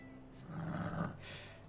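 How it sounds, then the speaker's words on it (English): Low, rumbling growls from wolves in the King's Quest video game, a continuous snarling roar that swells in the middle and stays fairly quiet, with no talk over it. "Some wolves."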